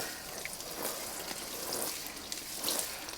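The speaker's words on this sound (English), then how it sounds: "Now I'm just going to give this a light drizzle of water." A light drizzle of water trickles onto a seed tray of pre-moistened seed-starting mix for fall tomatoes, a soft, continuous patter and hiss with faint drips, steady and quiet throughout.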